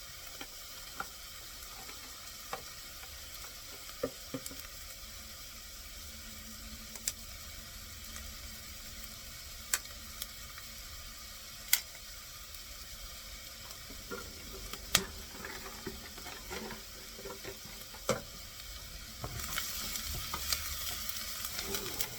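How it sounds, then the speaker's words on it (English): Onions sautéing with bay leaves in a soup pot for green bean soup, a soft steady sizzle under scattered light clicks and scrapes of stirring, with a louder frying hiss building in the final seconds. "So the onion is nicely sauteed."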